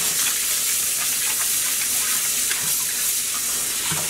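Hand-dyed yarn is washed in water with dish soap, giving a continuous close wet hiss of running water with soft splashing and squishing, and no talking.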